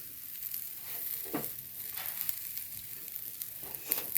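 Jackfruit and prawn stir-fry stirred in a pan, with soft sizzling and a few scraping strokes of the spoon, quiet and close.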